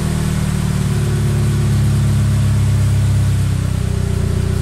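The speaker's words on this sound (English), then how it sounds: "that is actually the quietest exhaust I've ever had" A warmed-up Toyota 86/Subaru BRZ engine idles through an Invidia R400 aftermarket exhaust with a deep, steady burble, low and rumbling, loud and close with a slight rhythmic throb throughout.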